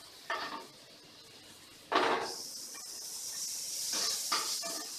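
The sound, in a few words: onions and green chillies frying in a pan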